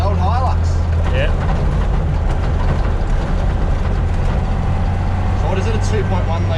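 A little 2.2-litre four-cylinder diesel with a TD04 turbo in an old Toyota Hilux/Land Cruiser runs steadily with a deep, constant low drone throughout, loud and close, with voices talking over it.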